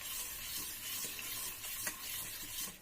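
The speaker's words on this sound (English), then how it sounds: "I'm going to keep stirring this till the jaggery is completely melted." Spoon stirring jaggery melting in water in a pan for ripe banana halwa: a steady soft hiss and faint sizzle with a few light scrapes, continuous and fairly quiet.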